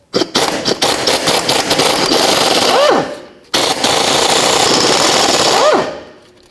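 Impact wrench loosening the lower shock bolts of a 1997-2004 Dodge Dakota with a 10mm socket, two loud sustained rattling bursts close up, each ending in a descending whine.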